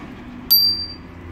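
A simple bicycle bell on a KTM bike gives a single loud, bright ding that rings on and slowly fades, set against quiet background noise.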